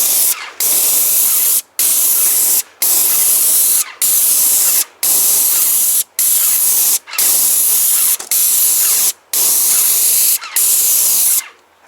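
Paint sprays onto hardwood butterfly steps in a series of about eleven loud, close, hissing bursts, each roughly a second long and separated by brief silent pauses.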